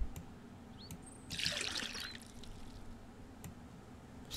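Water pouring into a barrel in the survival game Mist Survival, a short splashing trickle of about a second, soft and close, with faint clicks around it.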